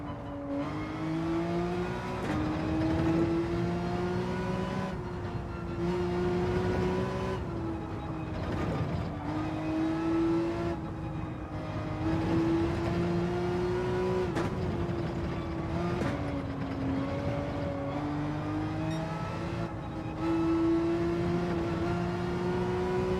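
Porsche race car engine in Gran Turismo 7, a steady high-pitched racing drone that rises and dips through repeated gear shifts over about twenty seconds, loud and continuous with no talk.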